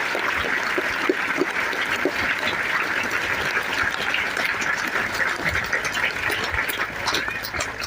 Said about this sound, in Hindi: मातृशक्ति और युवा संघ समाज के लिए पुनः तालियों की गड़गड़ाहट हम सभी कर रहे